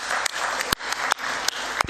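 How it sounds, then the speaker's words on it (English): Delegates at the CAF ordinary general assembly clap for Kamanga. A few sharp, separate claps stand out near the microphone over a thin spread of clapping in the room. "Let's clap hands for Kamanga"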